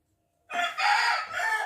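A live chicken weighing about two kilos gives a single loud, close crowing call in two or three bursts, starting abruptly after a moment of silence, with no talking.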